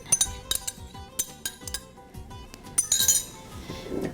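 Spoon clinking against a glass bowl while organic tomato sauce and a tablespoon of olive oil are mixed together, with several sharp, close taps scattered through a steady scraping stir.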